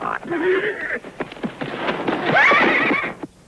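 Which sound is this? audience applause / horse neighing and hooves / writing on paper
horse neighing and hooves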